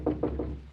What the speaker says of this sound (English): There's someone at the door.